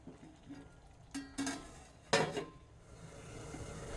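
A lid knocks onto a pot of Bengali ash gourd and prawn curry, two or three quick metallic clatters up close, followed by a soft simmering hiss.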